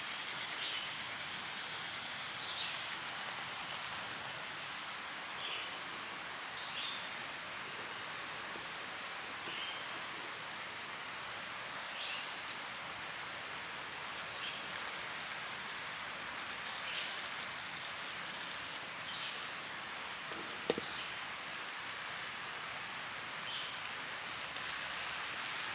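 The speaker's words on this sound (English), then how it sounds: "It has been raining out for like the past 4 days. I tried to go get clips of it." Rain falls steadily outdoors as a faint, even hiss of countless drops, with a steady high whine running through it and one brief tap near the end.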